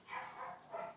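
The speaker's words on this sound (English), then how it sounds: "Like my dog's barking right now, you can hear them downstairs." A dog barks from downstairs in a house, muffled and distant, with two or three soft bursts spread across a quiet second.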